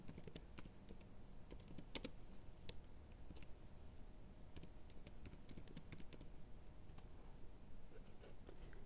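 Someone types on a computer keyboard to name a folder, irregular bursts of light key clicks with brief pauses between them, close and quiet, with no voices present.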